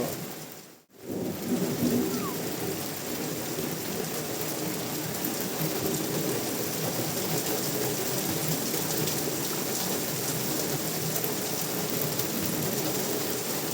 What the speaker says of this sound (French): Ouais, très forte pluie là.